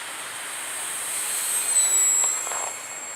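An ElevenHobby P-51D Old Crow RC model airplane flies slowly with flaps down, its faint, high motor whine swelling slightly as it passes at a distance.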